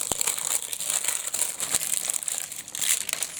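Crinkly plastic packaging from an LOL Surprise doll crackles and rustles constantly as it is unwrapped close up, with sharper snaps scattered through.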